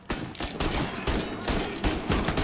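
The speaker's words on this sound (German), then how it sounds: "Erstmal alles daneben geballert." Gunfire in the Mafia 1 Remake video game cracks out in several rapid bursts, loud and close, with short gaps between volleys.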